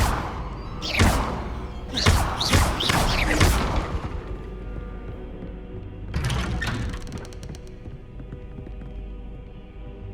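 Bombarda blasting spell in Hogwarts Legacy, a series of heavy explosive impacts with thuds, crashes and bright crackling debris, then one more blast and a fading rumble, loud and close.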